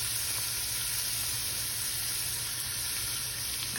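Bacon sautés in a pan with a continuous, even hiss that holds steady throughout, close and moderately loud, with no voices.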